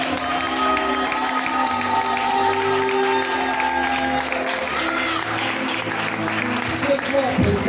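A church congregation at a worship conference cheering and applauding, with a loud sustained roar of clapping, shouts and voices under sustained musical tones and a speaking voice.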